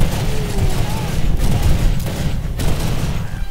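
Sustained weapon fire in The Darkness II, a dense rolling barrage with sharp bursts throughout and a low rumbling layer beneath, loud and close.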